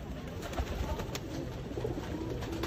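Soft cooing of high-flying pigeons murmurs low and steady amid a busy, noisy background, with several birds seemingly calling over one another.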